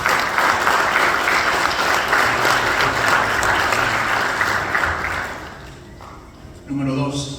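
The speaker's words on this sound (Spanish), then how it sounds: "Un aplauso, Señor." Church congregation applauding together during a sermon, a dense, sustained clapping that holds steady for about five seconds, then thins out and fades before a voice starts speaking.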